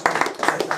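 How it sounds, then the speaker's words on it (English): Applause for a barber at the end of a haircut, a brief burst of several hands clapping close by with uneven, overlapping claps. "Give Stephen a nice round of applause."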